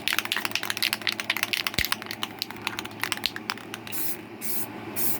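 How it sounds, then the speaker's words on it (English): Short, rapid hisses and clicks from a spray can applying ivory gloss paint to a 1963 Chevy Nova plastic model kit, followed by a few longer, steady spray bursts close by. "we're going to spray that with the ivory"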